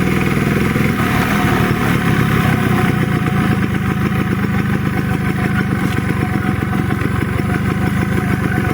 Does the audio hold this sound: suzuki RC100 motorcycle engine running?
yes